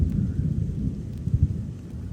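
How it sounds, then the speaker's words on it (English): Heavy rain pours down in a swamp while low thunder rumbles steadily beneath the downpour, dense and close, with no voices. "And it is pouring rain"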